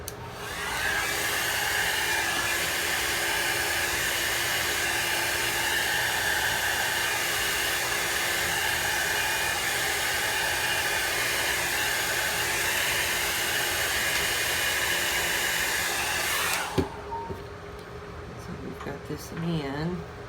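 A heat tool blows continuously while drying an alcohol ink painting, a loud steady hissing roar for about sixteen seconds that then cuts off abruptly, leaving faint handling noises.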